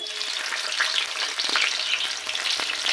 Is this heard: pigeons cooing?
no